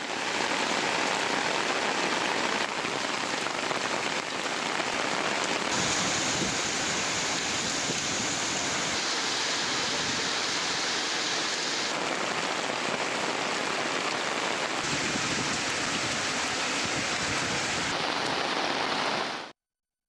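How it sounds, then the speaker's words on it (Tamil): Heavy summer rain pours steadily and loudly on roads around Rajapalayam in Virudhunagar district, Tamil Nadu, a dense continuous hiss with no voices. "2 மணி நேரத்திற்கும் மேலாக பெய்த கனமழையால் சாலைகளில் நீர் பெருக்கெடுத்து ஓடியது"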